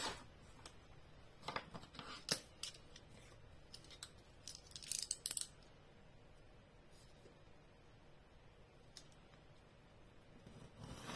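Scissors cutting paper card for a handmade scrapbooking birthday card, a few quiet crisp snips and rustles clustered early on, then near silence with faint handling noise.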